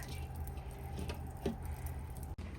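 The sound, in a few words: water dripping from strained curd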